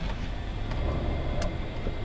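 A 1995 Dodge Ram 1500 SLT Laramie rear-wheel-drive pickup on the move, a steady low engine and road rumble heard from inside the cab, with a faint click partway through.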